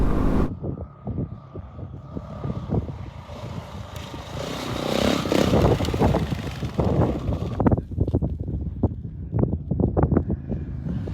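A Yamaha WR dirt bike rides hard through rough terrain on a northern adventure trip, its engine revving in repeated throttle bursts over steady wind buffeting the microphone, loud and close throughout.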